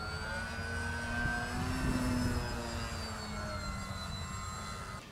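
A Durafly Gloster Gladiator RC model airplane, an 1100 mm plug-and-fly model, drones steadily overhead at moderate distance, its motor whine holding a continuous tone that rises and falls slightly in pitch as it passes.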